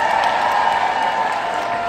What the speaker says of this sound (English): Y'all give NECA a round of applause.